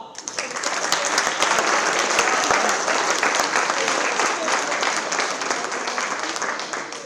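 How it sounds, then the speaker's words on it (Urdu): Audience at an international Urdu mushaira in Bahrain bursts into sustained, dense applause that holds steady for several seconds and tapers slightly toward the end. "آپ سب کی بھرپور تالیوں میں تشریف لائیں گی محترمہ افشاں حق"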